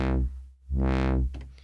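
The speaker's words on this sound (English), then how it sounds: "So on this sine wave here, it's a nice smooth open and close sound." A Hydrasynth synthesizer tone swept by a sine-wave LFO on the filter, opening and closing smoothly in two slow swells, bright and loud at each peak, with a brief dip to near silence between them.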